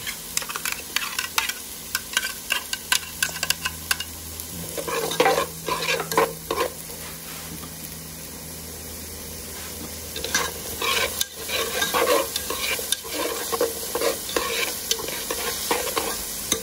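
Onions sizzle steadily in a hot pan while a utensil scrapes and stirs in bursts, close up, with no talking.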